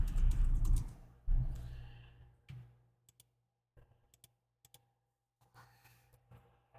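Clicky keystrokes on a computer keyboard as a card name is typed, a loud burst of rapid typing at first, then sparse, scattered single taps with gaps of quiet between them.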